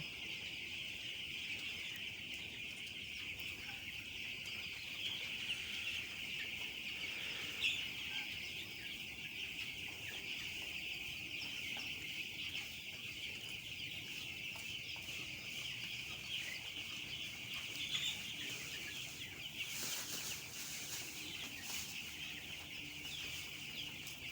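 A flock of about a thousand broiler chickens fills a poultry house with continuous, dense clucking and chatter, a steady bed of bird noise with no talk over it.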